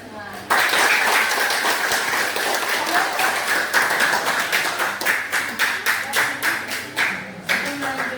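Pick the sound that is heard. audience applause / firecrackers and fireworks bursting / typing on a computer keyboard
audience applause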